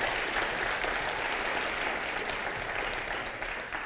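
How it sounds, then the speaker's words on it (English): Quiet, steady applause from an audience at a children's book festival held at a university facility, a continuous even wash of many clapping hands heard from some distance. "We should give them a round of applause."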